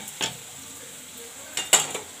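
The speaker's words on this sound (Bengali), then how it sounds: "নাড়িয়ে দিচ্ছি" A spoon stirs a bottle gourd and prawn curry in a pan, with two or three brief scraping clinks over a faint, steady sizzle, close and quiet.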